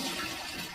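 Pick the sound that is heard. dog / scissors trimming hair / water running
water running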